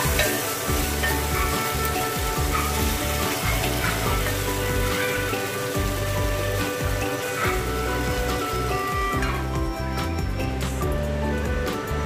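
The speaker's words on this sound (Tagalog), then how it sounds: "At umpisa na po natin ang paggisa ng ating mga gulay." Broccoli and cauliflower sautéing for a beef stir fry, a loud steady sizzle and crackle of vegetables in a hot pan running throughout, close up and with no talking.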